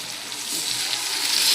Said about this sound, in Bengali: মশলাটা একটু কষানো হবে।